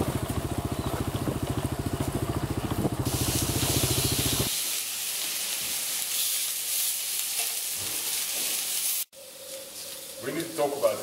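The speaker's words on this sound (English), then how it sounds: "This cast iron pan is really hot, and then pineapple in, and it really brings out the flavor" Pineapple sizzling in a very hot cast iron pan, a loud steady hiss and crackle that starts after a clattering mechanical rattle and keeps going with brief handling clanks near the end.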